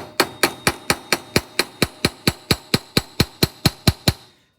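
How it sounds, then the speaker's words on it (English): A ball peen hammer swells a rivet with about eighteen sharp metallic taps in a quick, even rhythm, close and crisp, then stops; no speech. "Then I'm going to go with my ball peen hammer and swell the rivet."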